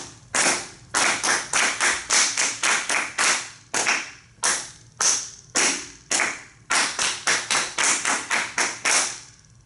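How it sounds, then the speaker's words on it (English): A group claps in sharp, rhythmic bursts, the claps coming in quick patterned runs separated by brief pauses. "then we're just gonna clap"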